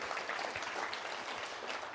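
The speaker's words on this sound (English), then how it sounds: "you can give him a round of applause" An audience at a panel talk on township economy financing gives a round of applause, a soft continuous patter of many hands heard from a distance.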